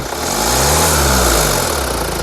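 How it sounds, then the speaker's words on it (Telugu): A 2015 Hyundai Santa Fe CRDi diesel engine revs up and settles back, a loud, close single surge over its idle in a brief burst. "ఇంజిన్ యొక్క నాయిస్ కూడా చాలా సైలెంట్గా అయితే ఉంది"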